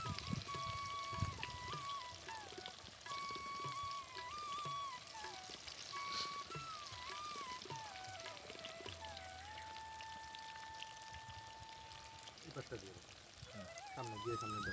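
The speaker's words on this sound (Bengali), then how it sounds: "3-4টে করে আমরা দিয়ে দিয়ে ভেজে নেবো ব্যাচে ব্যাচে।" Cabbage and red lentil fritters, three or four at a time, frying in hot oil, a steady soft sizzle running underneath talk and background music.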